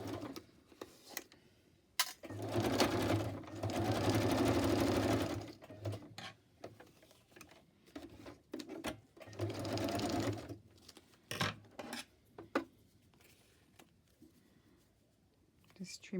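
A sewing machine zigzag stitches straight down the middle of fabric scraps for an embellishment, running in two steady whirring bursts separated by quieter handling sounds.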